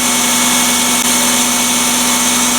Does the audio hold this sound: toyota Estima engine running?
yes